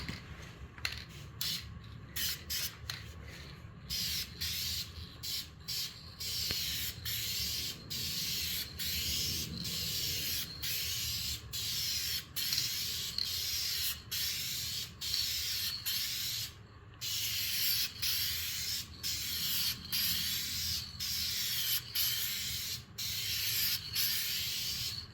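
Rattle-can aerosol paint sprays onto a car body panel of an MGB during dent repair, with repeated short hissing bursts separated by brief pauses, close and fairly quiet.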